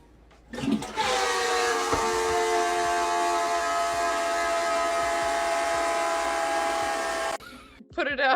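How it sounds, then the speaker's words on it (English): A long, droning tonal whine with a wavering hum from a toilet, loud and steady before cutting off abruptly. "Somebody tell me why my toilet sounds like this."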